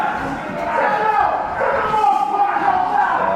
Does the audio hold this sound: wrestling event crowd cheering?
yes